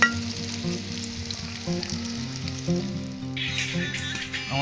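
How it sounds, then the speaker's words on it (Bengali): Luchi, or puri, fries in hot oil with a continuous close sizzle and bubbling, plus occasional stirring sounds; there is no talking. "আমাদের লুচি ভাজা সব শেষ"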